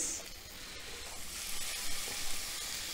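Tomatoes sizzle in hot oil in a pan while mutton kheema biryani is being prepared, giving a steady, soft frying hiss that swells a little toward the end, with no voices.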